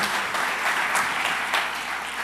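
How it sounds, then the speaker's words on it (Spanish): A church congregation claps warmly for God and the pastoral family, a close, lively wash of applause with a few sharper bursts, steady from start to finish. "yo quiero que le demos un aplauso a Dios por la familia pastoral Díaz y por esta iglesia"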